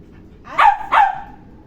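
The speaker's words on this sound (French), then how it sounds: "Il a aboyé 3 fois, il s'est assis." A dog at a canine dog-dance training session gives two sharp, close barks in quick succession over a quiet background.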